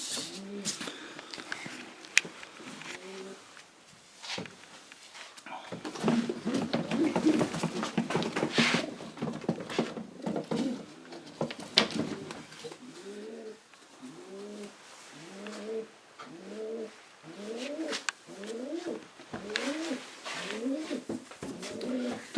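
Racing pigeons of Janssen lineage coo in a loft, a steady run of repeated, rhythmic coos that grows clearer and more regular toward the end over a busy, rustling background.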